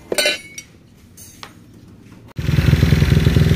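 A bore-up 59mm Honda Vario motorcycle engine fires up after a few light metallic clinks, then idles loud and close with a fast, steady throb.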